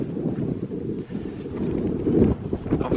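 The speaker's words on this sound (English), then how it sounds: "it's not a very strong wind, but it is bowing a little bit" A moderate breeze buffets a solo tent at a wild camp near Mardale Ill Bell, with steady low rustling and flapping that swells louder toward the end; no voices.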